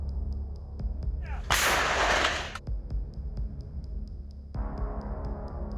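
Self-propelled artillery fires in combat, one loud close blast with a roaring rumbling tail that fades over a steady mechanical hum and faint rhythmic ticking.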